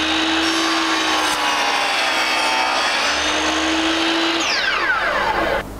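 A miter saw cuts through crown molding with a loud, sustained whine that spins down at the end of the cut.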